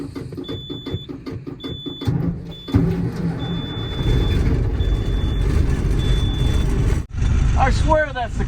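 An old ranch truck engine cranks with repeated rhythmic bursts, then catches and settles into a loud, steady idle, with a high beeping tone recurring above it and a brief dip near the end.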